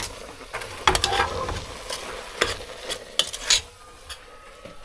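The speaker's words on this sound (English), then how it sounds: "Stir." Spoon stirring taro leaves in coconut milk in a pot, Namosi style, with repeated scraping clinks against the metal and a soft bubbling simmer underneath.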